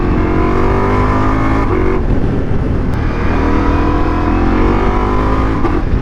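Ducati Multistrada V4S motorcycle ridden on the road, its V4 engine droning loud and steady throughout with rising and falling revs and wind rush, no talking.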